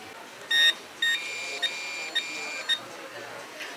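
A metal detector pinpointer sounds a series of sharp electronic beeps, two short bursts followed by a longer wavering tone with quick chirps, close and clear over a quiet background.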